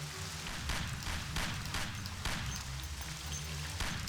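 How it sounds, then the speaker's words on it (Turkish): Heavy rain pours steadily in the video game Mafia, a dense, constant hiss with a rumbling low undertone that fills the whole stretch without pause. "Yağmur da bastırdı iyice."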